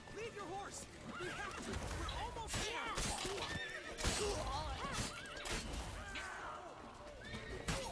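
A horse in The Witcher video game neighs and whinnies repeatedly with hoof clip-clops underneath, a busy layered game soundscape with a voice talking over it.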